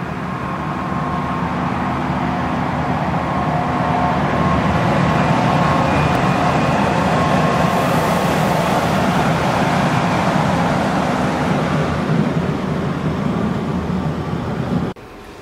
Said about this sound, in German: wird der Zug von einer Diesellok zurück nach Putbus gezogen